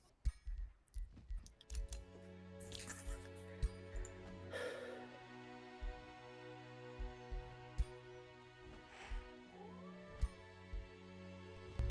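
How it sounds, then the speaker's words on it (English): A cat meows faintly now and then in a quiet room, the calls rising and falling between soft clicks and taps like keyboard typing and small handling noises. "I hear the kitty."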